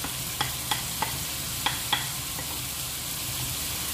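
Chopped onion sautéing in a pan, a soft steady sizzle broken by several sharp clicks of a utensil stirring against the pan, fairly quiet and close.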